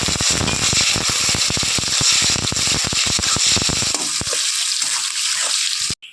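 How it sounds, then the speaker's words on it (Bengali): Onions fry with whole garam masala and bay leaves, crackling and sizzling loudly in a hot pan, a dense steady frying hiss that thins out and quiets near the end. "পেঁয়াজটা ভাজা ভাজা হয়ে আসছে"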